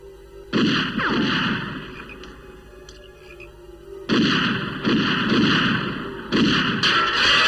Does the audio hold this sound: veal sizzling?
no